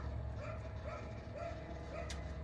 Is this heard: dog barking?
yes